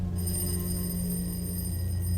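An alarm bell rings continuously inside a museum, a sustained metallic tone with steady buzzing overtones, loud and alone throughout.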